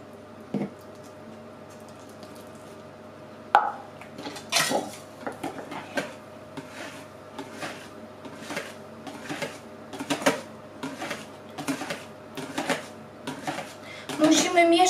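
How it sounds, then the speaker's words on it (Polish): Apple cake batter with milk is stirred in a bowl, producing repeated close clinks and scraping taps of a utensil in an irregular rhythm, with someone talking between the strokes. "Musimy mieszać spod spodu, żeby nam mleko nie osiadło na samym dole"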